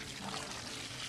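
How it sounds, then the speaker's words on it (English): Water pours in a steady, full rush into a planting hole around the burlap-wrapped root ball of a tree or shrub, continuous and close for a brief moment with no talking. "we do a really thorough watering at this stage of planting"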